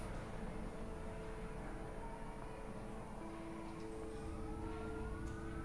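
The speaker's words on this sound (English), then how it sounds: "Okay, hearing sirens." Police sirens wailing across a city in the video game A Way Out, a faint distant rising tone over a dense, constant background rumble with no voices.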